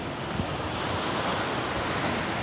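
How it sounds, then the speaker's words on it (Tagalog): Big ocean waves roll and crash at Pacifico beach on Siargao island, a loud, continuous wash of surf mixed with wind buffeting the microphone, with no voices. "Ang lalaki ng mga alon."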